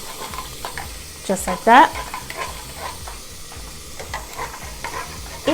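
Barbacoa beef stirred with ground cumin in a pot, a steady close scraping and stirring over a soft sizzle, with a few sharper spoon knocks partway through and brief speech in places.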